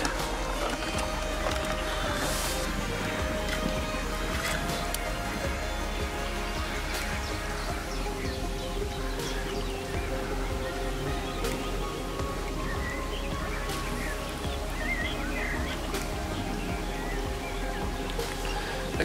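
Quiet motorboat engine humming steadily while moving on water, a low continuous drone with faint water and mechanical ticking sounds, calm and without talk.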